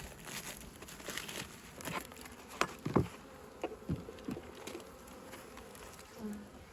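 Honeybees in a spring hive being fed sugar and pollen patties, giving a faint steady buzz close by, with crinkling handling sounds and a few louder taps and bumps.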